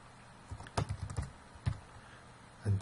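Values being typed on a computer keyboard, a short burst of quiet, close key clicks in an uneven rhythm with small pauses between them.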